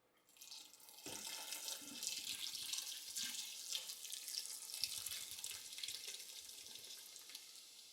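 Hard cider poured into an Instant Pot over bratwurst, a steady splashing, gurgling pour that starts after a brief moment and runs continuously, close and fairly quiet.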